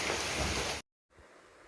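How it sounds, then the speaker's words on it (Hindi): Steady hiss of rain falling, fairly loud, then cut off by a brief silence before returning much fainter and softer. "अब देखिए यहाँ पे बारिश पड़ रही है, थोड़ी हल्की हो गई है"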